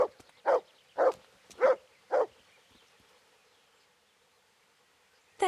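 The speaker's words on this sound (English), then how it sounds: "There's a good doggy." A dog in the video game Kingdom Come Deliverance barks four times in an even, quick rhythm, each bark sharp and close, followed by near silence.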